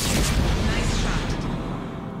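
Starship weapon fire blasting and destroying an enemy ship in the space strategy game Sid Meier's Starships, a loud, dense booming rumble that swells at once and slowly fades over a couple of seconds.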